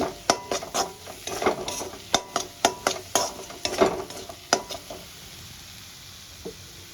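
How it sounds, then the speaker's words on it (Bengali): Ground spices are stirred and sautéed in a pan over a low-medium flame, with a spoon scraping in repeated sharp strokes over a soft sizzle that dies away toward the end. "আমি লো টু মিডিয়াম ফ্লেমে মশলাটা কষাবো"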